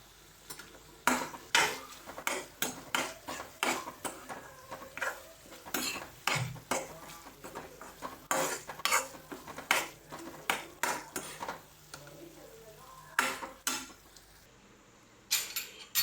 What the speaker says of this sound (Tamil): இப்போ லாஸ்ட்டாக கொத்தமல்லி இலையை தூவி பிரட்டி எடுத்துடலாம்